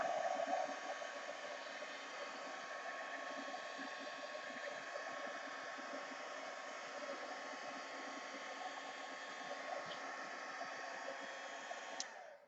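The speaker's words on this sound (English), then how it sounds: "Heat gun." A heat gun drying freshly stamped paint on a mixed media art journal page gives off a steady, even blowing hiss with a faint motor whine, constant and close for about twelve seconds before it cuts off.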